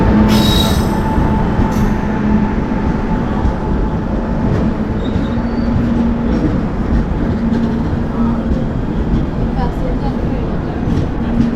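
A Sawantwadi passenger train arriving at a station, with a loud continuous rumble of rolling wagons, a steady metallic wheel whine and brief squeals, while someone talks over it.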